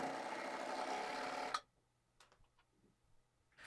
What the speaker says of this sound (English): On this dress, I'm sewing the center back, as well as the shoulder seams and side seams.